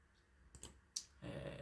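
A computer mouse clicked a couple of times, faint and brief in a quiet room.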